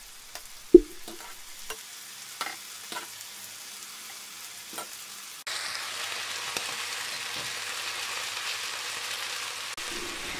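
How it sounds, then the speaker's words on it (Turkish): Fish fillets frying in butter in a pan, a soft steady sizzle that grows fuller and denser partway through, with a few light clicks and taps of utensils. "Balık fileleri iki taraflı kızarttıktan sonra bir miktar tereyağı ilave ediyorum ve tereyağı ile devam kızartıyorum."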